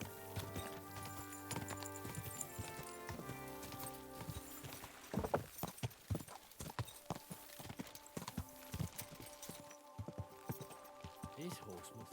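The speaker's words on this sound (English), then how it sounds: "And we'll ride there. Easy, good horse." Horse hooves pound out a quick clip-clop gallop in a video game, rhythmic and close, with someone talking over the ride.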